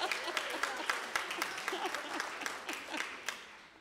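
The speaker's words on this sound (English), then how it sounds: "You can clap." Audience clapping at a teach-in on the power of the vote: a scattered, uneven patter of individual claps from a modest crowd, fairly faint and thinning toward the end.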